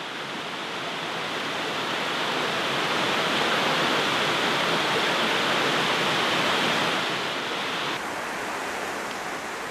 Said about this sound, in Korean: 금방이라도 버진강의 거대한 물길 속에 휩쓸릴 것만 같습니다.